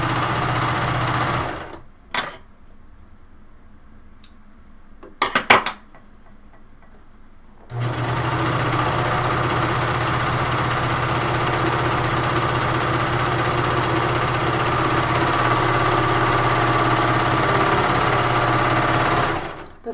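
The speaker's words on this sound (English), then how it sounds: "I serge the bottom, and then it's a little bit easier than doing a circle." A serger overlock machine stitching a fabric hem on a garment: a brief start and a couple of short bursts, then a long, steady, close, high-speed whirring run that continues to the end.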